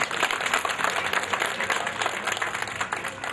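An audience applauds the municipal president of Tlaxco at a public handover of water tanks and cisterns, giving a steady wash of clapping hands that runs the whole time under faint crowd murmur.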